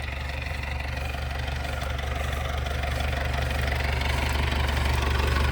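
An MTZ tractor engine runs at a steady, loud, low idle close by, its rumble swelling slightly toward the end, with no talking.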